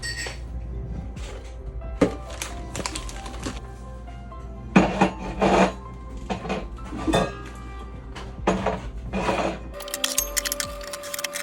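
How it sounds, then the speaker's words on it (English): Dishes, pots and cutlery clink and clatter as they are put away into kitchen cabinets during a cleanup, with irregular nearby knocks and thuds and no talking. "Once all the dishes were put away"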